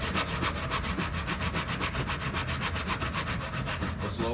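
A hand saw cuts a wood joint in steady back-and-forth strokes, a rhythmic rasping pattern of roughly five strokes per second, close and even throughout with no talking.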